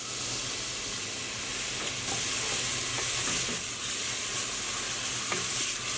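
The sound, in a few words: onion frying in olive oil in a pot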